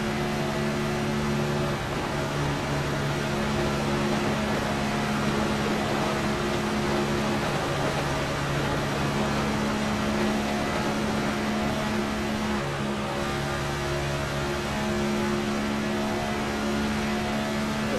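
A race car engine in the iRacing sim at Talladega hums loudly and steadily, with brief dips as the throttle is lifted and then reapplied, close and continuous, with no voices.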